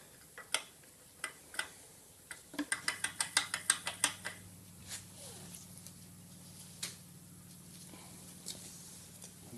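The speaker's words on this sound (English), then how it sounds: "We'll wind that in by hand." The slide plate of a Pro Cut car brake lathe being wound in by hand, a series of metallic ticks and clicks, some in a quick rhythmic burst, over a faint steady hum, close by.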